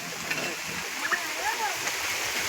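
Heavy, sudden rain sends water streaming off a roof in a continuous rushing splash, close and steady, while voices speak faintly beneath it.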